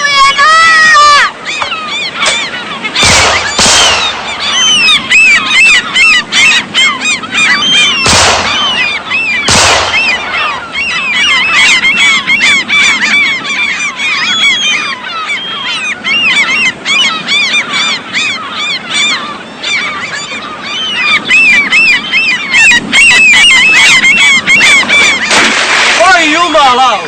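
Geese honk loudly and continuously in a dense flock, with several sharp shotgun blasts cutting through the calling near the start and middle; voices can be heard among the birds.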